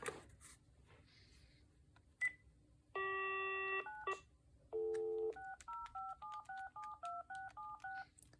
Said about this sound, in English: let's dial out to check the incoming audio first